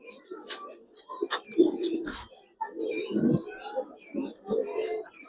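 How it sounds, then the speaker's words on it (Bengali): Silver racer pigeons coo in low repeated throaty bursts close by, with a few faint chirps, while someone talks over them throughout. "এটা আমার শখের কবুতর"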